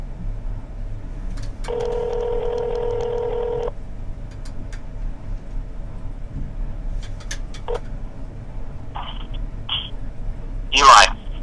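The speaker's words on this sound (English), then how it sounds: "let's call him via cell phone and see what's going on here" A cell phone places a call: a steady dialing or ring tone holds for about two seconds, then short beeps and a brief louder burst follow, with faint background noise between them.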